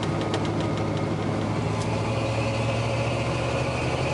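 A 1995 Ford F-150 pickup with a 351W V8, hauling about 4,000 lbs, pulls under heavy throttle with a loud, continuous engine drone heard from inside the cab.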